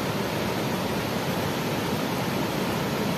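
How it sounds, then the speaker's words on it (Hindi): Hirni Falls, a waterfall in Jharkhand, India, gives a dense continuous rush of falling water, loud and steady without breaks and with no voices. "तो फिर आपको पहले इधर झरना दिखाते हैं दोस्तों, यहाँ हिरनी फॉल का।"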